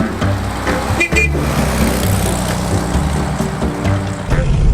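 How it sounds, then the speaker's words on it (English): A heavily loaded 1971 VW Super Beetle driving along, its engine droning loudly and steadily with road rumble and bumps, close and continuous throughout. "the Super Beetle doesn't drive as nicely with several 100 pounds of Jeff's stuff"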